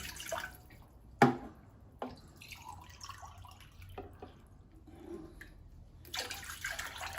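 Water is poured in short splashing bursts and drips into a vessel for making ginger tea, quiet and intermittent against a still room.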